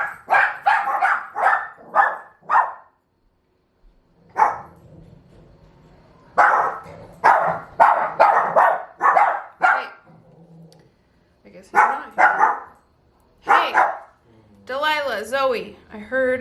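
Dogs bark in repeated close bursts at an arriving car, some yips and growls mixed in, with a person speaking between the barks.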